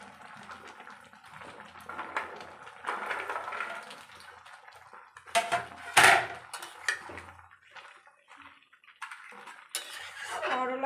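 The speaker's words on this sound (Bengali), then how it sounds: "করলা, বেগুন আর বড়িগুলো অ্যাড করে আমি একটু ভালো করে নেড়ে চেড়ে নেব।" Fried bitter gourd, eggplant and bori stirred into boiled vegetables in a pot for sukto, a spoon clinking and scraping against the metal in scattered bursts, with one sharp clatter midway and quiet gaps between.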